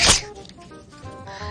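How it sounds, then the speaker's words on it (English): A single loud, close sneeze bursts out at the start, then fades into quiet room tone; cartoon setting of a woman with allergies. "I sneezed."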